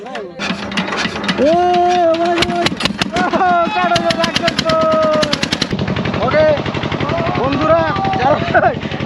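A 32-horsepower engine on a boat on the Jamuna river, its loud, rapid, rattling put-put pulsing close by while voices talk and sing over it.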